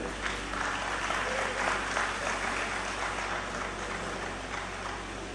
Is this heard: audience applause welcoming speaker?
yes